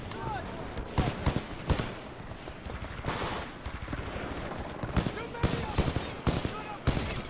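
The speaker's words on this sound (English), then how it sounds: "Is that Terminator 1 motherfucker shooting at me" Enemy gunfire in Titanfall 2 crackles in repeated bursts and single sharp shots, scattered over a busy game soundscape, with a voice talking over parts of it.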